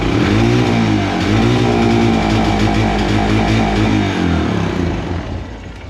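A motorcycle engine runs loud and close, idling then revving in rising and falling swells, its steady harmonic drone stumbling and cutting out at the higher revs before settling lower.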